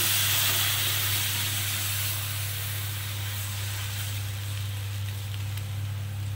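Milk poured slowly into a hot pan of semolina for mango suji kheer gives a steady, close hiss and sizzle, with a constant low hum behind it and no voices.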